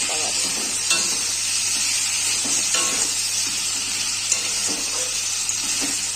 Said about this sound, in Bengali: আদা রসুনের পেস্টটা দিয়ে দেবো